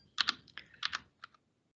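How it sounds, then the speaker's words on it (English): Keys on a computer keyboard pressed in short uneven bursts of clicks, close and crisp, with a quiet pause at the end. "pressing different buttons on my keyboard."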